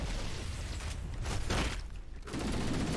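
Shotgun fire and combat noise in the Halo video game, with dense loud bursts and blasts packed together in the foreground.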